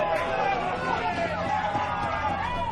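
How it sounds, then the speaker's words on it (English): A football crowd at a women's Victorian Premier League match, Casey Comets against Spring Hills, grumbles and murmurs unhappily after an offside call, a steady distant babble of voices. "And the crowd's not happy with that one."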